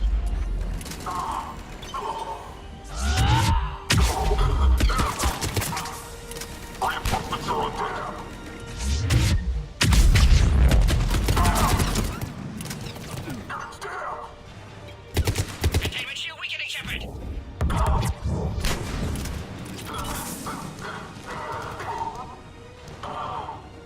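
Gunfire in a firefight on Surkesh in Mass Effect 3, loud bursts of automatic weapons and single shots coming in waves with crashes between them, while voices talk over the battle.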